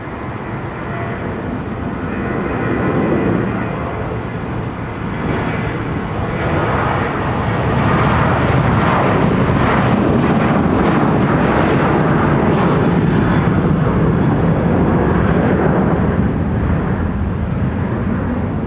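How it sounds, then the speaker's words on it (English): A jet departs runway 30 left at Minneapolis–St. Paul Airport, bound for Denver, its engine roar building from a distant rumble to a loud, sustained broadband thunder that holds steady to the end. "Nevada 1, departing for Denver,"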